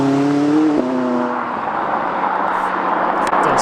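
A McLaren 570S engine revs, a loud droning tone that rises briefly and then fades into a broad whooshing rush as the car moves off, with no talk.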